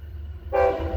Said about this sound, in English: One of the kids down there, unfortunately, has one of those horns.